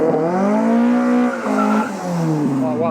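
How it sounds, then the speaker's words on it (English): A Toyota MR2 Mark II sports car cruises past close by, its engine note rising and falling in a smooth drawn-out sweep with a brief shift in pitch partway through. "The Mark II MR2 cruising past."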